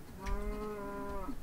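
A single low Minecraft cow moo, drawn out for over a second with a rich harmonic tone, fairly faint and heard alone.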